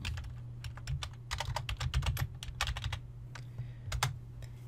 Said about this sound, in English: I'm going to type virtual zoo.